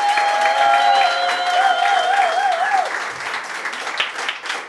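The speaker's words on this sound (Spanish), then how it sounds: "En primer lugar, un fuerte aplauso" Audience applause honoring a former champion, loud dense clapping with a warbling tone over it early, easing slightly toward the end.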